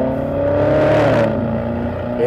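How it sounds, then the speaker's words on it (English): A 2023 Porsche Cayenne V8 with its exhaust switched on accelerates, giving a loud, gruff engine drone that swells and shifts pitch briefly, heard from inside the cabin without talking. "it instantly fills the cabin with a crap load of noise, and it sounds so good. Like, it is proper gruff V8 noise"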